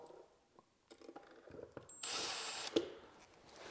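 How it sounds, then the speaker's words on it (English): Power drill or driver screwing in an electrical receptacle, brief bursts of whirring with a louder sustained run in the middle, close by and alone without talk. "I like just screwing a little bit first and then pushing it."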